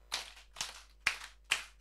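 Sharp hand claps from a kindergarten teacher (TK Rajawali) leading a counting clap game, four evenly spaced claps in a steady rhythm, close and fairly loud with silence between them.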